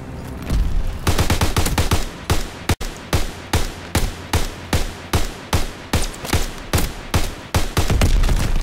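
Repeated shotgun blasts from a World War II–era shooter game, a steady run of loud, sharp reports spaced roughly every half second, with a brief busy flurry at the start and no talking.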